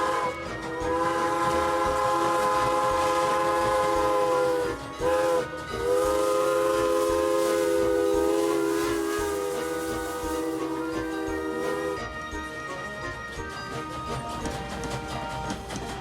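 A Strasburg Rail Road steam train sounds its steam whistle in long, loud, sustained chime tones, fading as the train's rumbling running noise carries on beneath.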